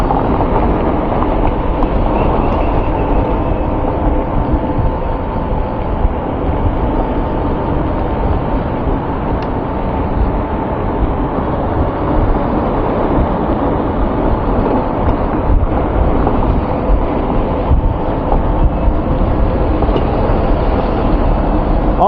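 Rictor K1 e-bike motor running in turbo mode during a climb, a steady, loud broadband whir and rumble that holds unbroken throughout, with no talking.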